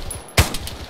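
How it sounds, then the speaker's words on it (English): A single sharp gunshot cracks loudly in ARMA 3 during a British Army-style mission, standing out over a steady background hum. "After these gunshots go out."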